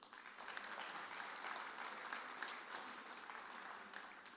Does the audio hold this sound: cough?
no